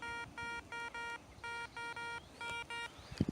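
A metal detector gives repeated short beeping tones, about a dozen evenly paced pulses, while sweeping over a buried coin that rings up low during outdoor coin hunting, ending with a brief scrape.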